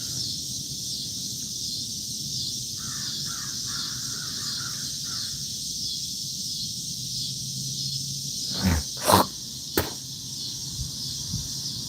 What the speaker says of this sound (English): Oh, there's the crows.